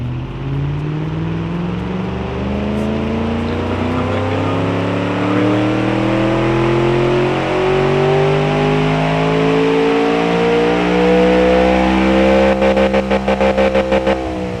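A car engine fitted with a race cam, simulated in the game Automation, revs loudly and continuously with a rising and falling drone, then breaks into a rapid stuttering pulse near the end.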